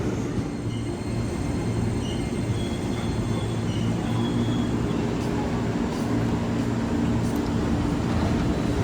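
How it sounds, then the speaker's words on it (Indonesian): A commuter train rolls into Jatinegara station in Jakarta, its loud, continuous rumble and rattling wagons close by, with faint squealing tones overhead. "ini dia keretanya"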